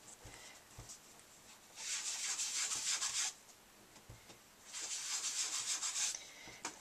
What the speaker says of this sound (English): I'm just going to rub my sponge in a circular motion.